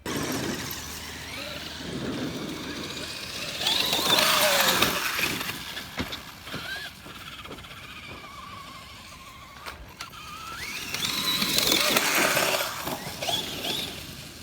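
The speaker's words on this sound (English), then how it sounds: "There's a car coming that way." A car passes along a road near an RC truck bash, a broad swell of road noise rising around four seconds and again near twelve, moderately loud over outdoor background and wind.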